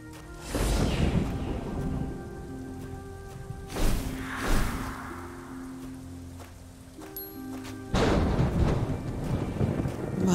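Rain falls steadily in the fantasy game Thyria while rolling thunder cracks and rumbles three times, loud broadband bursts over a constant wet hiss, with a low game music drone underneath.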